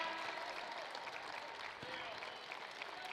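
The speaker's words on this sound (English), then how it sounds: "they get a nice round of applause" Sustained applause from a crowd at a Wake Forest versus Louisville basketball game as three seniors are substituted out, a dense steady wash of clapping throughout.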